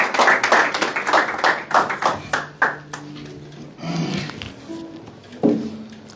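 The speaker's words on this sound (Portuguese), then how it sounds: "uma forte salva de palmas para o nosso autor" A live audience in Mozambique claps for a book's author at a political event, a burst of sharp handclaps in the opening seconds that thins out into scattered claps, with some tonal sounds and voices toward the end.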